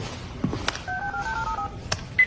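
A mini video phone unit dials out, giving short beeping touch tones followed by a sustained two-pitch tone, with faint clicks between them.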